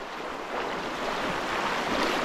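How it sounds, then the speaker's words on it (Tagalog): Strong river current rushing loudly and steadily at close range, a broad continuous wash of moving water heard while people wade across, with no talk. "Malakas yung agos!"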